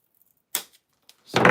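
Scissors cutting material while a battery is glued in place, a few sharp crisp snips separated by silence, close and fairly loud, with a longer rasping cut at the end.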